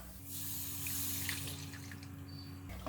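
Tamarind water poured into a pot of rasam during cooking, a soft steady splashing pour that runs for about two seconds and then stops, close and fairly quiet, with no talking.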